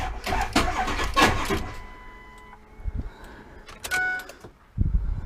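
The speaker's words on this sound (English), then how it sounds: "just a bump of the starter when I try and start it" A 2003 Ford Excursion with a 6.0 diesel gets a few short starter bumps but fails to catch, with quiet gaps and a faint electrical whine between the attempts.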